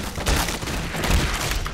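Rapid video-game gunfire, a dense burst of overlapping shots that runs loud and continuous through the whole stretch, close and harsh with no talking.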